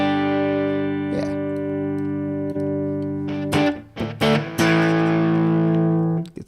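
Electric guitar chords ring out through a distorted Dumble amp simulator tone, sustained and buzzing, with a few choppy strums and pick scrapes before a long held chord.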